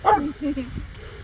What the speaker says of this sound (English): Look at here, I got a little doggy.